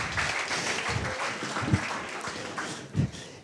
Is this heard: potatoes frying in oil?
no